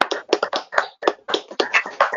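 A small panel of academics at a literary roundtable clapping briefly together, a close, uneven patter of handclaps with no voices.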